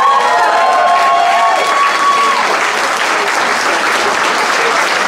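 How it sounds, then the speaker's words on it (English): Loud, dense audience applause at a club show, steady clapping throughout with brief cheering and a voice calling over it early on. "Can we give him a round of applause?"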